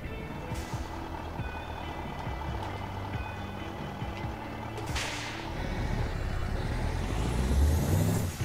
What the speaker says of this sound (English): I like the sound of the gear changes as well on this.